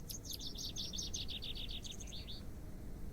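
A small bird in the video game The Excavation of Hob's Barrow chirps a quick, high trill of rapid notes that trails off, heard clearly over a soft, constant ambient outdoor hum.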